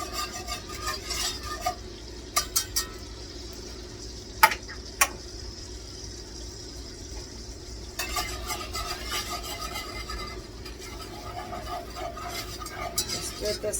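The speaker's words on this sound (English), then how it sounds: "I got 4 tablespoons of butter and 4 tablespoons of flour. And I want to get a roux going here" A butter and flour roux is stirred and cooked in a pan, giving a soft continuous sizzle broken by sharp utensil scrapes and clinks against the pan.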